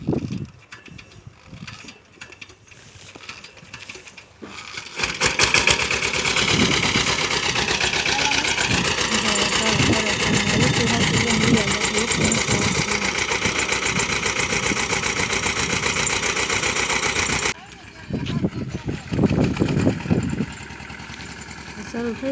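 A tractor engine runs at a steady, loud, close drone in a farm field during groundnut weeding, stopping briefly near the end, with people talking.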